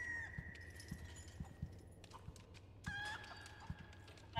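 Chickens in the Resident Evil 4 Remake video game cluck and squawk in short bursts over a steady rhythmic low thudding, with a few sharp calls standing out and no talk.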